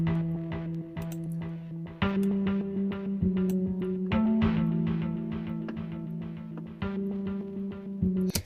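Electric guitar harmonics played through a heavily effected cinematic patch, ringing chime-like notes with sustained tails that pile up in a steady rhythmic pattern, clear and fairly close with no voices.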